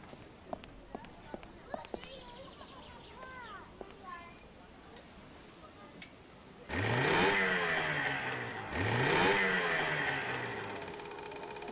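Small motorboat engine in the adventure game Secret Files 2: Puritas Cordis, starting up with sputtering bursts and then running in a loud, rough, throbbing drone that swells twice, heard close and alone.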